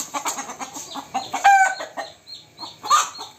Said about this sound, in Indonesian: Ayam pun ribut ya kan